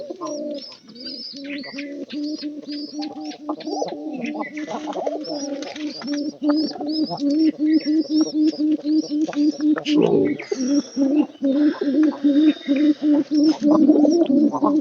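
Pigeons cooing in steady repeated rhythmic calls, close and continuous, with sharper chirps layered above and a louder burst of fluttering around the middle.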